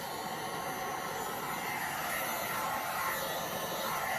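A heat gun blows steadily on a 3D resin flower, a continuous close whooshing hiss of moderate loudness that holds for the whole stretch with no talking.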